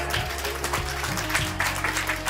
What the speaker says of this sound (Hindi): पुनः इनके लिए जोरदार तालियां एक बार हो जाए